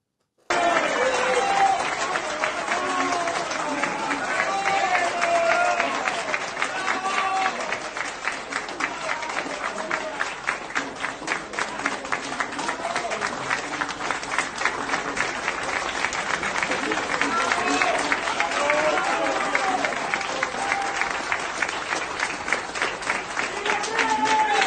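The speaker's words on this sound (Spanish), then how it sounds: "aparece alegremente aplaudiendo el resultado del fraude." Sustained applause from a crowd cheering an election result, a dense continuous patter of many hands that holds steady for the whole stretch with no pauses.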